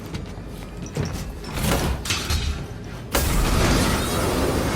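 A door breach explosion in a Call of Duty game: a sharp boom at about three seconds bursts into a loud, sustained roar of debris and noise, preceded by muffled game ambience and movement.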